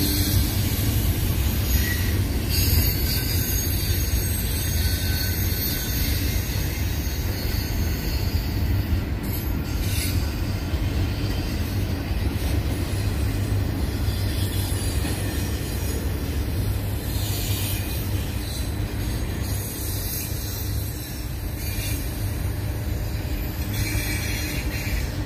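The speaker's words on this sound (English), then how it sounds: "Pretty sure this is a double stack train." A long double-stack freight train rolls steadily past at close range, its loud continuous rumble joined by metallic wheel squeal and occasional high screeches throughout, with no talking.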